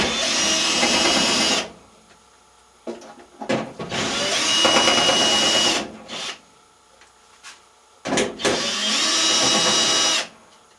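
Power drill backing out three screws from the panel of a Whirlpool dryer, three separate bursts of whirring, each lasting a second or more, with short pauses between them.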